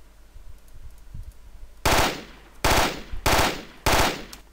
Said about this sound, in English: when you burst fire the M4